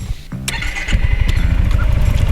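A motorcycle being readied for the season cranks over and catches, then settles into a loud, steady, rapidly pulsing idle close by, with no talk over it.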